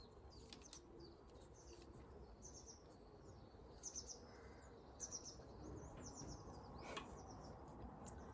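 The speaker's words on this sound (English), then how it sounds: "Don't know if you can hear the birds in the background." Birds chirp and call intermittently in the background outdoors on an estate, with scattered high tweets rising over a steady low ambient rumble and no talking.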